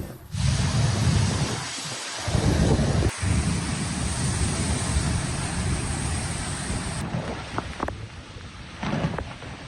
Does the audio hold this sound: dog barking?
no